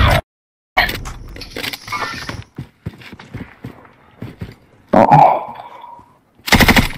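Assault rifle fire in a first-person shooter game, a Bruen, rings out in several sharp rapid bursts separated by short pauses, loud and close.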